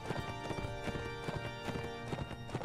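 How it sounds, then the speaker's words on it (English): Hooves of a horse in the video game Mount and Blade pound in a fast, steady galloping rhythm, close and continuous, with faint background tones underneath. "this fucking horse is incredibly fast"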